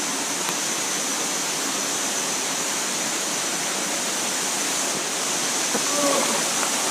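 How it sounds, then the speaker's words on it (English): Dirty water from the pools of a fish farm rushes out through pipes. The flow makes a steady, loud, broadband roar that fills the whole stretch without a break. "So this is how the water are going out from the pools. This is the dirty water."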